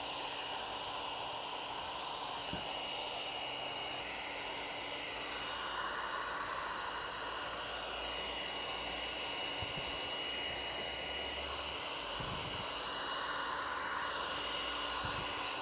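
A heat gun blows steadily on vinyl wrap over a Tesla Model 3 car hood, a continuous close airy roar that shifts slightly in pitch as it moves, with a few faint knocks and no talking.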